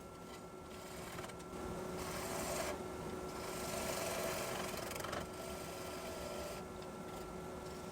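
Wood lathe hollowing out the inside of an ambrosia maple bowl, a steady close whirring hum with a rough, scraping grind that swells and eases in passes, no voices.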